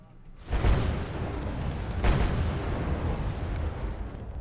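Artillery strike in the strategy game Wargame: Red Dragon, shells landing on a light armoured car: a heavy boom at the start, a second blast about a second and a half later, and a low rumbling roar of battle under the whole stretch.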